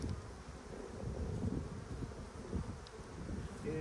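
Honey bees buzz in a soft, dense swarm, a continuous low hum close to the hive with faint rustling around it.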